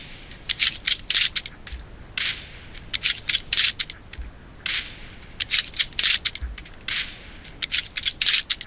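Video game gunfire heard through Galaxy Buds3 earbuds comes as sharp, crackling bursts of rapid shots in repeated volleys, separated by brief pauses.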